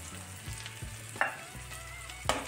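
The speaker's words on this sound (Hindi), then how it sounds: "इसे हम अच्छे से एक मिनट तक और भून लेंगे ताकि मसाला कच्चा ना रहे" Egg bhurji frying in a pan with red chilli and garam masala, a quiet sizzle broken by a few spatula scrapes and two sharper clacks.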